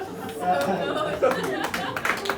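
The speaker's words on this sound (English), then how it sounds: "That's never got a clap before." Brief applause from a comedy club audience after a joke, scattered clapping mixed with crowd chatter and a few chuckles, close and moderately loud under ongoing talk.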